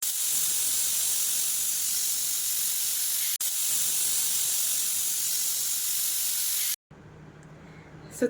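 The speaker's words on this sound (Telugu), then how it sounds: "ప్రెషర్ కుక్కర్ మూత పెట్టి ఒక 2 or 3 విజిల్స్ వచ్చేంత వరకు పెట్టుకొని" Steam hisses loudly and steadily from a pressure cooker whistle while broad beans cook on a stove, cutting out briefly twice before a short quieter stretch of kitchen noise.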